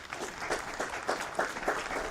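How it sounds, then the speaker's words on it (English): An audience at a Congressional Gold Medal award ceremony claps, a steady moderate round of applause from a modest crowd lasting a couple of seconds. "Please give Catherine a round of applause."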